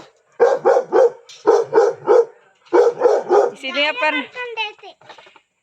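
A dog barks close by in quick bursts of three or four, pausing between groups, then lets out a high whining yelp.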